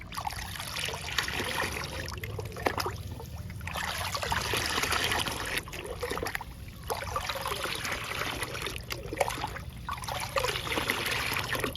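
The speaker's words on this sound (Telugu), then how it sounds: "ఈ ఇరవై లీటర్ల లిక్విడ్ని మనం కూరగాయ మొక్కలకి ఇచ్చేద్దాము" Liquid plant feed trickles and splashes onto vegetable plants in uneven bursts, pausing briefly between pours, close by and fairly quiet against a hissy background.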